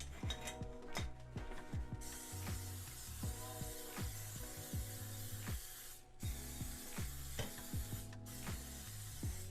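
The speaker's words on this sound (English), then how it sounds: "It's like ASMR. Spray the pans." Repeated short hissing bursts of cooking spray on baking pans for cupcakes, over a steady mechanical, ratcheting rhythm with background music.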